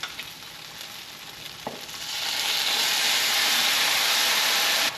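Tofu with a crispy crust sizzles in a pan after Korean-style sauce is poured in, a soft hiss that swells into a steady, brighter boiling fizz.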